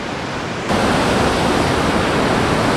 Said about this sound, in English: So gorgeous waterfall here at this Lake Macdonald waterfall, Lake Macdonald Falls